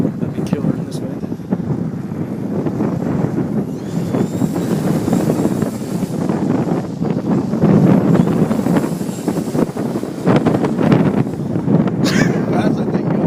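Strong high wind of more than 16 knots batters an outdoor microphone at a model airplane flying session, a loud, constantly gusting rumble over the whole stretch.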